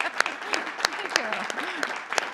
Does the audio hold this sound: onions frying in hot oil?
no